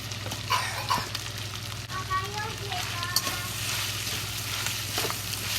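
Black woody mushroom, carrots and green pepper stir-fried in hot red oil in a pot, giving a steady sizzle with scattered clacks and scrapes of stirring, under a low constant hum nearby.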